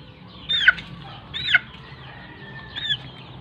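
Three short, sharp squawks from a chicken being handled for avian coryza treatment at separated intervals over a low background hum, fairly close.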